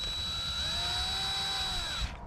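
A power driver snugs a grounding screw on an electrical outlet, producing a close, steady high-pitched motor whine that holds for about two seconds and then cuts off abruptly.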